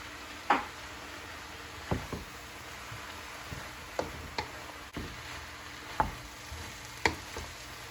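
Green beans stir-fried in a pan with carrot and celery for pancit canton and bihon: a soft, steady sizzle with sparse sharp clicks and taps from stirring, quiet throughout.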